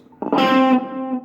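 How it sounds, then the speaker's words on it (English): An electric guitar plays one sustained note through an echo delay effect, a strong attack swelling into a long ringing tone whose repeats trail off, played alone with no voices. "If you want to put a bit of echo with it, echo sounds quite nice."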